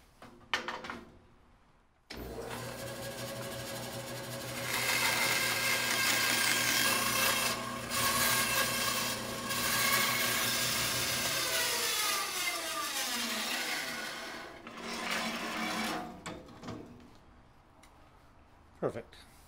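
A saw cuts through wood to narrow the neck of a handmade cigar box guitar, a steady rasping stroke running for most of the stretch, close and loud, with brief pauses and speech around it.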